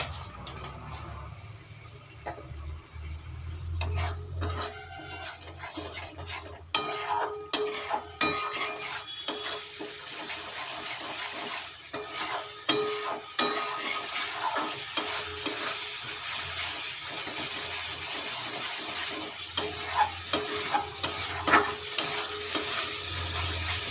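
Spice masala is stirred and sautéed in a pan for a vegetarian broken-wheat khichdi, with a steady sizzle and repeated scraping clinks of a spoon against the pan, no talking.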